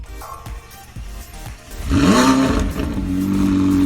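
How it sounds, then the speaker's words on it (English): A few clicks and clunks, then a McLaren sports car engine in the video game Driving Empire cranks and roars to life with a loud rev before settling into a steady, throaty idle. "classic McLaren start up there"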